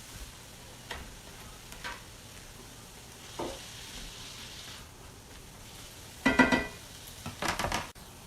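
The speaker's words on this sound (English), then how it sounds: "what we want to do is caramelize these onions a little bit" Onions and garlic caramelizing in a pan for salsa: a faint, low sizzle most of the time, then two louder bursts of stirring and scraping near the end.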